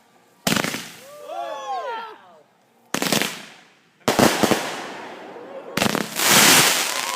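Fireworks burst in four loud separate volleys at close range, with crackling trails and whistling between blasts, while a few people speak nearby.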